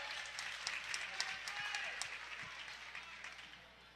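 A basketball crowd claps and cheers in a gym, the applause swelling through the middle then fading, heard faintly beneath a commentator talking.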